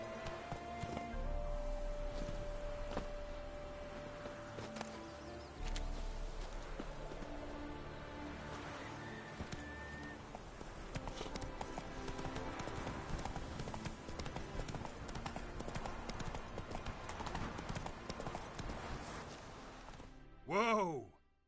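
Hooves of the horse Roach clip-clop in a steady galloping rhythm through most of the stretch in The Witcher 3, over game music and ambience, with speech present.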